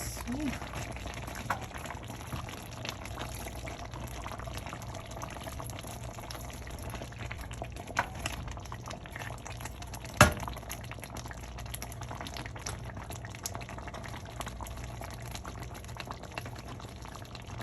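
Egusi soup with kale simmers in a pot, giving a faint, steady low bubbling throughout, with a single sharper knock partway through.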